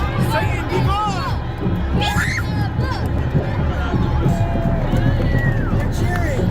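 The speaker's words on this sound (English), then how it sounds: "They're cheering." A dense crowd cheers and shouts at a book burning, a steady roar of many voices with scattered yells lasting throughout.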